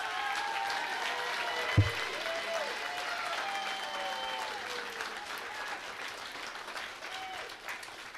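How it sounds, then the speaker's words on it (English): An audience at a Washington community transition program graduation claps for the graduates and their supporters, steady moderately distant applause with a single sharp knock near the start and some faint tonal sounds in the room. "please, round of applause for yourselves and for them"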